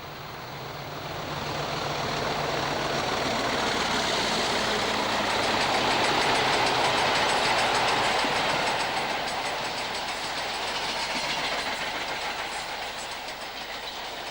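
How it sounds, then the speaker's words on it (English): A Deltic diesel locomotive, 55018 Ballymoss, roars steadily past at York heading south, its engine noise swelling and holding for many seconds amid continuous rolling wheel and rail rumble. "Our final scene at York portrays another Deltic, 55018 Ballymoss, heading south for King's Cross."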